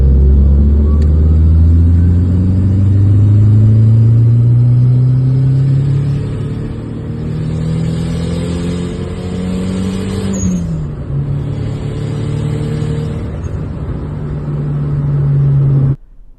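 A Proton Satria carrying a Lancer GSR turbo engine revs hard up toward 8000 RPM, a loud close engine whose pitch climbs in rising sweeps, dips, then holds high before cutting off abruptly at the end.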